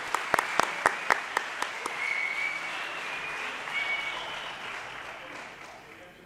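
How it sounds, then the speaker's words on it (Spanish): An audience at a climate action talk gives a round of applause, opening with a few sharp individual claps before settling into steady sustained clapping that slowly fades. "Un aplauso para él, ¿eh?"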